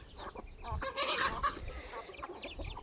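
Domestic chickens clucking and squawking in a brief, busy burst, with several overlapping calls rising in the middle and some scuffling alongside, heard fairly close with no talk.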